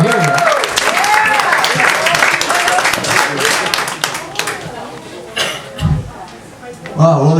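Audience in the Auburn Hotel breaks into loud, sustained applause and cheering to welcome comedian Matt Waibel, a dense crowd wash with voices mixed in that dips midway and then surges again.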